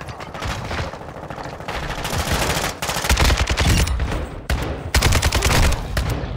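Rapid gunfire in a shooter video game, dense bursts of automatic shots with a few sharp single cracks, loud and close, continuing for several seconds with no clear talk.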